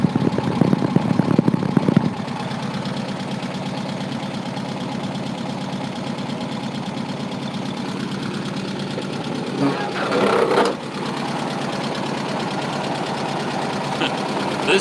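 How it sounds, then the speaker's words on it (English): A Volkswagen engine idles in a garage with a steady, even low rumble close by, holding a constant drone throughout with a brief louder bump partway through. "But listen to this baby purr."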